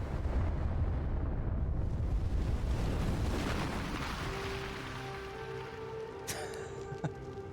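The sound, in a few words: explosion of Ares in God of War (2005) video game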